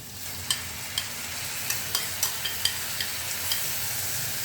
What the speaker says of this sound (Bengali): আদা রসুনের কাঁচা গন্ধটা যাওয়া পর্যন্ত এটাকে আমরা হালকাভাবে কষিয়ে নিই